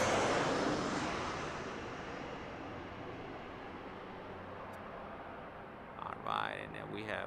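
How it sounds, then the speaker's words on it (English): A Southwest Airlines plane on the runway at Las Vegas Harry Reid International Airport, its loud broad jet roar slowly fading, with voices talking faintly near the end. "up next on the runway, we have Southwest Aerolíneas SWA 899"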